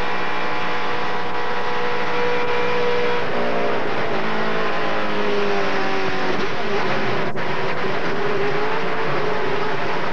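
Stock race cars roar around the track at the 2005 Advance Discount Auto Parts 200, a loud continuous engine drone with pitch shifts as cars accelerate and pass, no talk over it.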